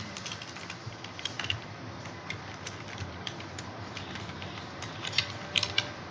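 Soft, irregular key clicks from a computer keyboard as Python code is typed, faint and close over a steady low background hum, with a few sharper taps near the end.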